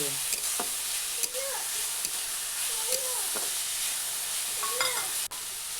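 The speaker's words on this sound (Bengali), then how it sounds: "তারপর এই সবগুলি আরও কিছুক্ষণের জন্য ভাজবো" Cabbage and carrot sizzle steadily in a pan as a vegetable filling is cooked for homemade momos. A close, continuous frying hiss sits under occasional stirring scrapes, with no talking.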